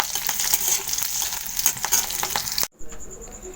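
Slit green chilies stirred and frying in a pan, a bright crackling sizzle with brisk scraping strokes, loud and close, cutting out abruptly near the end before a faint hiss resumes.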